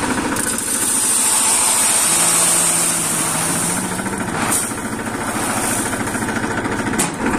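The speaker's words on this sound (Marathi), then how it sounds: "याला फक्त ट्रॅक्टरमध्ये टाकलं जाईल आणि त्यानंतर आपल्या जमिनीत पेरायला सुरुवात होईल" A tractor engine runs steadily before sowing gram on a farm field in Jalgaon, Khandesh, making a loud continuous mechanical chugging throughout with no talk.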